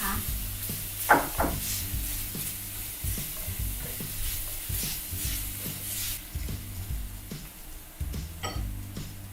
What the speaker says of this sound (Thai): ใส่กระเทียมลงไปผัดค่ะ